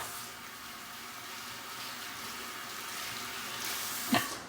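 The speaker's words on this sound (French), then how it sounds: "je vais juste rincer mon visage maintenant" Steady running tap water at a bathroom sink while a face is rinsed, a continuous soft wash of flow with a brief splash near the end.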